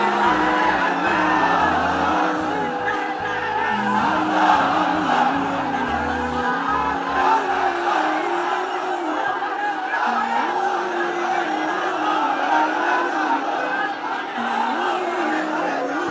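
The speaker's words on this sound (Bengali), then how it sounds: "তাকবীর দেন তো একজন আওয়াজ করে।" A large crowd gathered for an Islamic sermon by Mizanur Rahman Azhari raises a loud, sustained collective shout of takbir, the massed voices filling the space continuously and evenly from start to end without pause.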